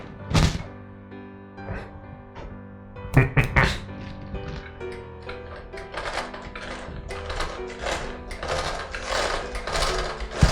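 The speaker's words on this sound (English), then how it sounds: "here, a Singer sewing machine, one of my most beloved sewing machines that I love to find" A Singer sewing machine in an abandoned home clatters and whirs in a rapid mechanical rhythm, starting with a few heavy clunks, then running steadily, close and fairly loud.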